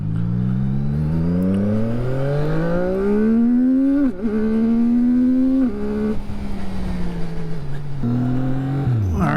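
A CF Moto 675SS sport bike engine runs loud and close, climbing steadily in pitch through the gears with short dips at each shift before revving up again.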